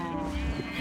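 A horse in Minecraft makes a short, continuous bleating whinny at close range, with no talking over it.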